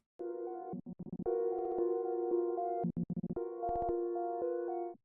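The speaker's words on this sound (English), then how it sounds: "Creates that stutter effect that you hear at the start, like so" Sustained synth chords chopped by an FL Studio gate preset into a rapid stutter, with bursts of quick on-off gating breaking up longer held stretches, loud and alone.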